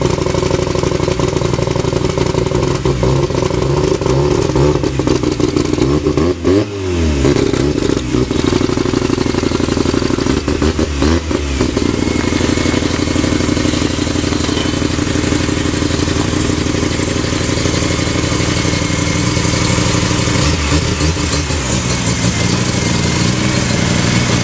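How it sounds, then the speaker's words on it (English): A car engine idles and revs steadily for a long stretch in a driveway, with a few brief swooping blow-off valve whooshes mid-way, close and loud with no speech. "We'll hear some blow-off valve noises"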